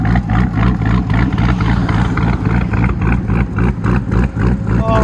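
Hennessey-tuned 800 hp Chevy Corvette ZR-1 with a 6.2L supercharged V8 and true dual exhaust, a loud, close, choppy idle that pulses in rapid rhythmic bursts, with a voice briefly over it.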